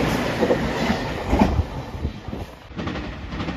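A JR Shikoku 8000 series limited express electric train passes through a station, with a steady broadband rumble of wheels on rail, rhythmic clatter and swelling surges as the cars go by, heard close and fairly loud with no talk.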